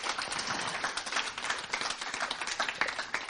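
Live audience applauding at a French volunteer-youth event, a dense steady wash of many hands clapping throughout, fairly close and with no speech over it.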